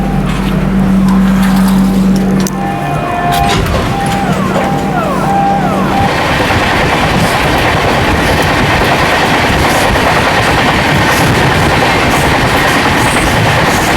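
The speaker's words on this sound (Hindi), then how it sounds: "जो ये ट्रेन है अपनी 1600 किलोमीटर ट्रेवल करके पहुंचे इटावा जंक्शन" Neelanchal Express arriving at Etawah Junction, its horn sounding in long blasts at the start, then loud, close rumbling and rhythmic wheel clatter as the carriages roll past continuously.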